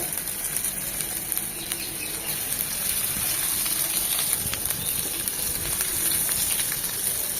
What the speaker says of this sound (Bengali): এই তেলে এই কাবাব দুটো ভেজে নেব